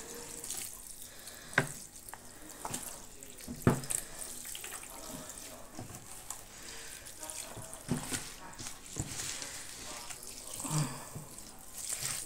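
Water is poured from a bottle during a San Juan purification ritual in Galicia, a faint, uneven trickle and splash with scattered small knocks and gurgles.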